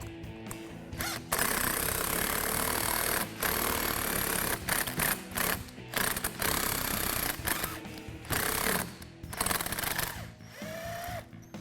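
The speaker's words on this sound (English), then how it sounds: "grab a bolt or a spare bolt and run it through the threads a couple of times" A bolt being run through the powder-coated threads of a Rugged Ridge bumper-mounted LED light for a Jeep Wrangler gives a loud, close mechanical grinding whir that comes in sustained bursts broken by brief pauses.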